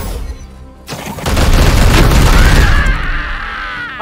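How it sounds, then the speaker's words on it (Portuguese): Gunfire from the Warhammer 40k: Chaos Gate - Daemonhunters video game opens with a heavy boom and rolls into a dense, loud burst of rapid shots lasting a couple of seconds before tapering off. "Pô, dá pra atirar daqui, mano."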